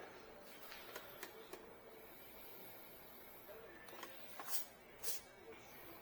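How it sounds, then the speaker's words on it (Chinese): An Epson L120 inkjet printer runs a test page with a faulty colour output, giving quiet mechanical whirring and several short, sharper clicks and bursts of carriage or paper movement, fairly faint throughout. "我们先做一张测试列印"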